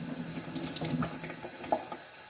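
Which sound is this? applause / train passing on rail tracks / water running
water running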